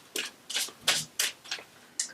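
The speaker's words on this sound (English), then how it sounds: "One last shuffle." Tarot cards are shuffled up close in six quick, papery riffling bursts, evenly spaced about every third of a second, with no talking.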